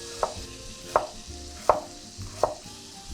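A knife cuts through asparagus on a board in four evenly spaced, sharp chops, close and distinct, over a quiet background hum.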